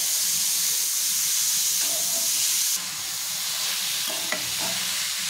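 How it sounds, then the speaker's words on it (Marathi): Mashed paneer for paneer bhurji stir-fried in a hot pan with spices, with a continuous close sizzle and hiss and occasional scraping of the spatula against the pan. "ह्याच्यामध्ये जे आपण पनीर आहे जे आपण बारीक स्मॅश करून घेतलेले आहे ते टाकून परतून घ्यायचे।"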